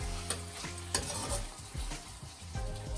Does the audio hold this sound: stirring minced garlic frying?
yes